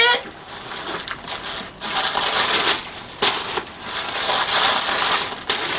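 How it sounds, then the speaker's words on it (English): A box of African Pride Black Castor Miracle hair products being unwrapped at close range, with loud crinkling and tearing of packaging in uneven bursts, several sharp rips and rustles, and a few brief pauses. "let's unwrap it"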